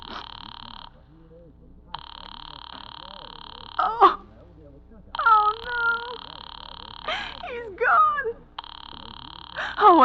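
A telephone line in an old-time radio drama sounds repeated electronic tone bursts with short gaps between them, while someone speaks between and over the tones.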